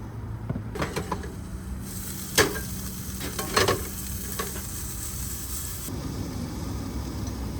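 Leftover beef frying in a pan at a camp stove in an SUV camper, a steady soft sizzle with a few sharp clinks and stirring scrapes near the middle, fairly quiet throughout.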